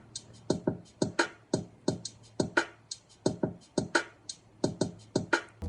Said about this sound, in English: Next up, we got the drums, which sound something like this.